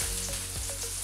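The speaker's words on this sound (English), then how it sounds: "after we put in the oil and it's sauteing and everything is going around, what we do, we throw in the onion" White onion sauteing in hot oil, a dense, close sizzle with a few faint stirring scrapes over about a second.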